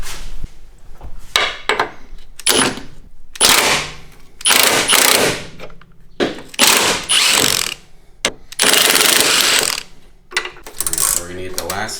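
Power impact tool zipping off the top bolts of a Mazda front shock absorber, loud close bursts of rapid rattling hammering in repeated short runs with brief gaps and metallic clinks between.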